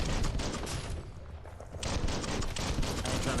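Gunfire in the Biomutant video game, a dense burst of rapid shots that briefly drops away and then resumes as continuous loud fire.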